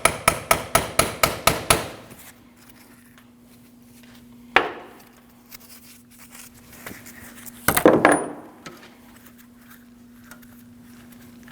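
Rapid series of about eight sharp metallic taps from a seal installer driving a rear wheel hub seal on a 2003-2008 Subaru, followed by a quiet hum and a few isolated clanks and rattles close by.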